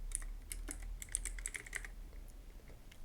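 Keys clatter on a computer keyboard in a quick irregular burst of close, light clicks over a low steady hum, then taper off into quiet.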